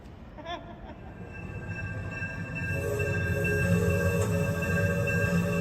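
A Disneyland train runs as a steady, close rumble with metallic wheel and rail tones, building louder partway through and holding a sustained hum to the end, with no talk.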